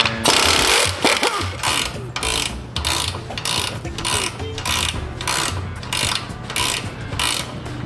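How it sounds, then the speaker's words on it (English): A rapid metallic ratcheting clatter repeats in steady bursts, loud and close, from a bolt spinning loosely in its mount during an adjustable spring install on a BMW M340i. "That's the sound of a bolt spinning inside of its place."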